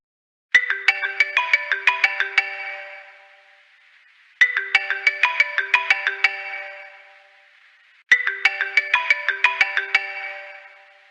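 A mobile phone ringtone sounds in three identical bursts, each a bright, rapid run of electronic chime notes that rings out and decays, separated by short silences.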